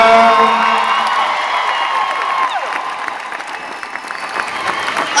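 Crowd applause and cheering at a concert at the Forum in 2014, a loud, dense wash of clapping with whoops and shouts that eases slightly toward the end, heard alone without talk.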